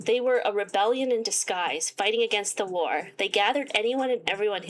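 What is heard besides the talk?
No distinct noise like a dog, phone or traffic.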